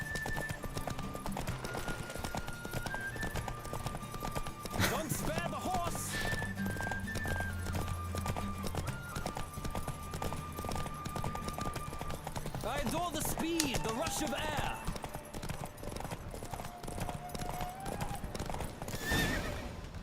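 Horse hooves clip-clop steadily through a race in The Witcher 3, with whinnies and neighs rising over the galloping rhythm, game music and other effects layered underneath.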